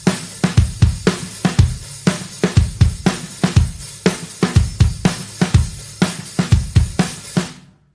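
A drum kit plays a driving groove, with steady kick and cymbal hits, backbeat snare strokes and a quick extra snare pickup after each one. The playing is loud and close, with no one speaking.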